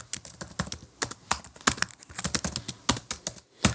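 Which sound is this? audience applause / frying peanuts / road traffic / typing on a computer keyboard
typing on a computer keyboard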